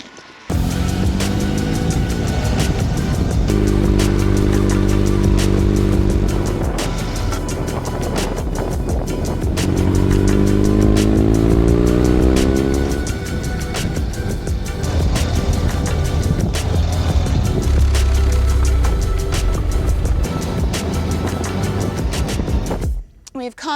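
A Ural sidecar motorcycle rides continuously for about twenty seconds, its engine droning loud and close with rising and falling revs, wind noise throughout and voices talking over it.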